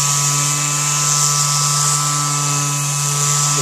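A Ryobi 18-volt P411 5-inch orbital sander runs alone at close range, a steady, even electric hum with a constant high whine and no change in pitch throughout.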